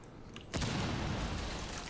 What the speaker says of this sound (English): we're going to throw a flashbang in